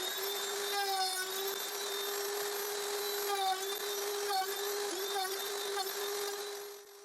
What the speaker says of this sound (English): so I can route the first socket in this end of the board against the same edge of the board